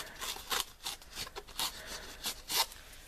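Paper being torn straight down by hand in a series of short, crisp ripping strokes, close and fairly quiet with brief pauses between pulls.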